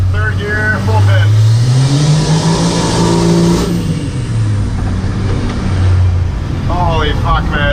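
A first-generation Cummins diesel truck pulls hard at full throttle in third gear, its engine roaring loudly up through the revs from inside the cab. Someone talks over it and then speaks again as the engine eases off.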